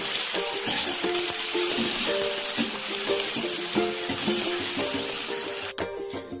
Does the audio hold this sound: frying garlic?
yes